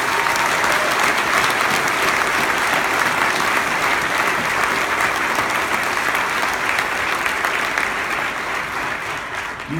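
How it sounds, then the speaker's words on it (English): A large audience claps for military service members, sustained loud applause that holds steady for about ten seconds before easing slightly. "Can we give them a round of applause for our freedom?"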